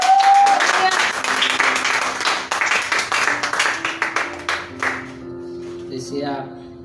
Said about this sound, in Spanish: Regale un aplauso a nuestro Señor.